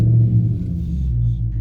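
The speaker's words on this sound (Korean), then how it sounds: "그리고 이제 시동을 걸어 봅니다." A 2016 Maserati GranTurismo engine turns over and settles into a steady low rumble, close and continuous throughout with no voices.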